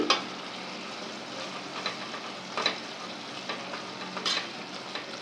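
Ginger garlic paste frying in a pan with tomatoes, onions and chillies, a steady soft sizzle with faint crackles and a few brief stirring scrapes, heard alone and fairly quiet.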